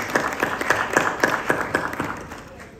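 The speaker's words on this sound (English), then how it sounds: "Please welcome Mr. Ashok Bhan with a big round of applause." An audience at a panel discussion on ethnic cleansing claps to welcome a panelist, a moderate spread of clapping with a few distinct, evenly spaced claps standing out near the front, fading toward the end.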